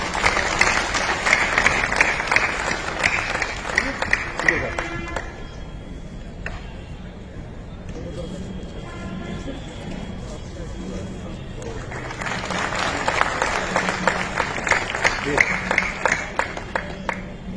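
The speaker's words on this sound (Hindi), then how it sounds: "कृपया तालियों से स्वागत करिए।" Audience applause welcoming a cabinet minister at a Rajput community honour ceremony, with dense clapping at the start and again near the end, while speech over a PA fills the quieter middle stretch.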